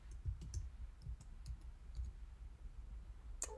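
Light clicks of typing on a computer keyboard come in a few sparse, faint taps over a low background hum, with one sharper click near the end.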